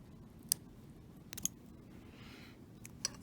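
Jewelry wire is snipped with sharp metallic clicks of a cutting tool, a few isolated crisp snaps spaced across a quiet, close background.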